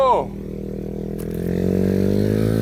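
A Kayo 90 TS pit bike engine drones steadily and rises in pitch as it revs up in second gear, with a voice shouting briefly at the start.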